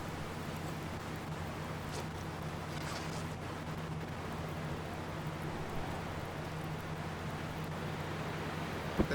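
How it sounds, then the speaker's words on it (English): Steady windy ambience in The Long Dark survival game, a constant broad hiss with a low hum, moderately faint and unbroken, no voices. "And it has become very, very windy."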